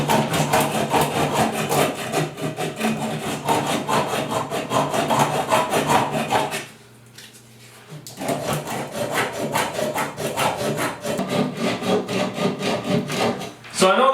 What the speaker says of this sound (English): Just use a little bit of sandpaper.